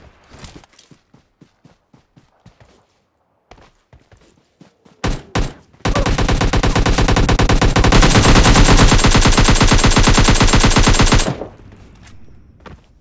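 Gunfire in the mobile shooter PUBG Mobile Lite: scattered single shots and footstep-like thuds, then a loud, dense sustained burst of automatic fire for about five seconds before it cuts off, with no talk.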